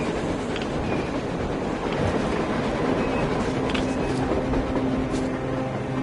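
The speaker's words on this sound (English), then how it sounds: "A train! A damn train on the surface!" A train rolling across the surface in the post-apocalyptic shooter Metro Exodus, a continuous rumbling roar with rhythmic clickety-clack of wheels and occasional metallic squeals, steady and fairly distant throughout.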